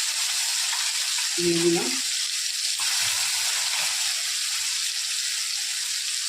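Black cumin seeds and green chili sizzle in hot oil while kochu borta is being cooked: a steady, loud frying hiss runs throughout, and a short spoken phrase cuts in briefly near the start.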